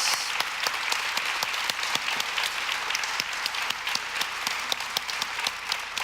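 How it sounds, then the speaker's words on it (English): An audience at a community gathering applauds steadily, dense clapping filling the hall without a break, with a few sharper individual claps standing out. "Let's give him one more round of applause."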